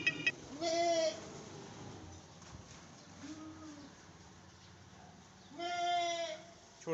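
Goats at a goat market in Karachi let out three loud, wavering bleats, two long ones at the start and end and a shorter one in the middle, over low background murmur.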